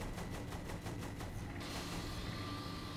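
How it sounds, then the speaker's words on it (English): Machine gun fire in Saints Row: The Third during a vehicle race, a rapid, evenly spaced burst of shots for a second and a half, then dropping into a dense, noisy roar of engine and action. "I know how to fire the machine gun."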